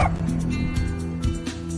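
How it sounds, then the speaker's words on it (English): A small puppy barks and yips several times in quick succession, close and fairly loud, with some whimpering tones between the calls. "let's all give a shout out to my little puppy, Weston, who's now about to be let out to take a walk"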